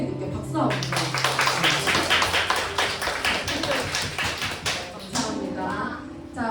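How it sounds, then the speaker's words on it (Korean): Children clap for their instrument teacher during an elementary Sunday worship service, a dense, close burst of quick claps that fills most of the stretch and fades near the end, with voices mixed in. "악기를 섬겨주시고 계신 선생님께 박수 한번 주세요."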